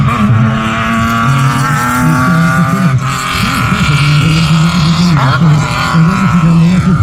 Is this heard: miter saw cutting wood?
no